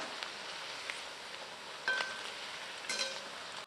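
Cauliflower and onion pakoda frying in hot oil, a quiet, steady hiss with a few soft crackles and pops rising briefly above the low sizzle.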